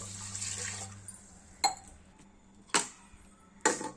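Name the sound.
water poured into a pot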